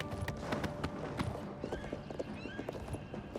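Horse hooves clip-clopping steadily in the video game Oblivion Remastered, a rhythmic run of hoofbeats at moderate distance with faint game ambience behind.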